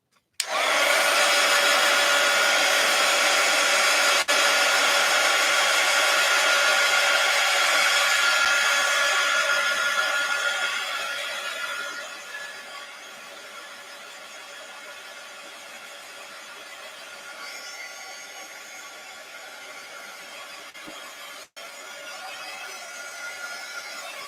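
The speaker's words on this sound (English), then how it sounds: "I think I can even dry this with my heat gun." A heat gun drying a page in an art journal, a loud steady whirring blow that runs close for about ten seconds, then drops to a quieter, even hum until a brief click near the end.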